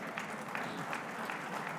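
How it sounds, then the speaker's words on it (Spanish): An audience at a book launch event applauds, a dense, steady patter of many hands clapping at moderate distance for the whole short stretch. "se ganó un aplauso peleando"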